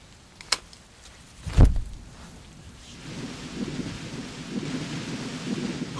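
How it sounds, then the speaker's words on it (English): Thunder cracks near the start and then rolls out loud and low, after which steady rain settles in and keeps pattering to the end. "You hear that thunder?"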